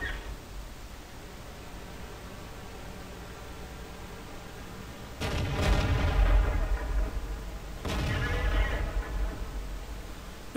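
Tank cannon fire in World of Tanks, two heavy booming shots a few seconds apart, each with a long rumbling decay, over a low steady background hum.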